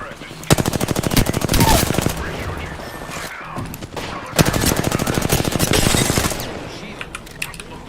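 Video game gunfire: two long, loud bursts of rapid automatic fire, each lasting about one and a half seconds, separated by a brief lull, close and dominant over the background.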